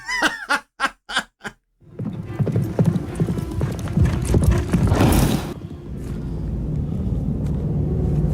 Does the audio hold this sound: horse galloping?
yes